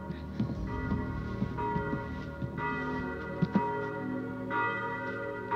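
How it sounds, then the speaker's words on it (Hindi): Church bells ring nearby in a continuous, layered peal with sustained metallic tones, joined by fresh strikes every second or two, steady and fairly loud with no voices. "गिरजाघर की घंटियां सुनाई दे रही हैं,"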